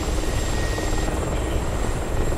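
A Mi-24 Hind attack helicopter in the DCS flight simulator makes a steady, loud rotor and turbine drone throughout, a continuous heavy whir with no talking.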